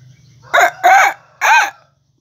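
A Pelung rooster crows close by in three loud, drawn-out bursts with brief gaps between them, over faint background clucking.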